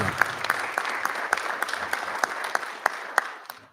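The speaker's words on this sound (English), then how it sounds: "Another round of applause for Sophia." Audience at a school board meeting applauding, moderate clapping with a few sharper individual claps standing out, fading away at the end.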